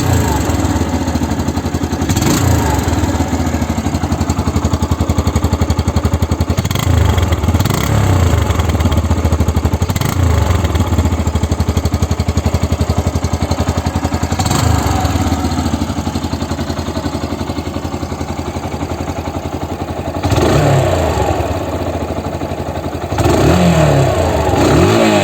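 A Yamaha YBR 125 four-stroke motorcycle engine running close by, a steady loud putter with rhythmic clatter and a few brief blips of throttle, continuous throughout.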